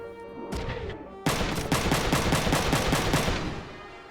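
Rapid bursts of mecha gunfire in Front Mission 3, a sudden loud volley of evenly spaced shots after a brief quieter lead-in, continuing steadily before tapering near the end.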